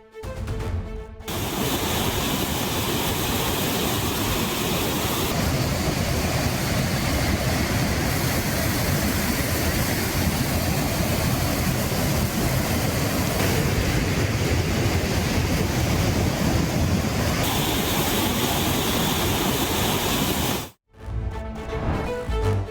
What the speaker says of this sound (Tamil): போடிமெட்டு மலைச்சாலையில் திடீர் அருவிகள் தோன்றியுள்ளன